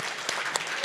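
Brief burst of audience applause at a panel event, a dense wash of clapping with a few sharper claps standing out.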